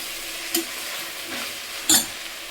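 Brinjal and potato pieces frying in a pan for pulao, giving a steady low hiss with two brief louder scrapes of stirring, near and alone.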